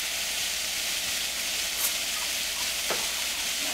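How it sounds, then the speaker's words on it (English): Onions, zucchini and eggplant sizzle steadily on a hot grill, a close, continuous hiss with faint crackles throughout and no talking. "So while the vegetables are grilling"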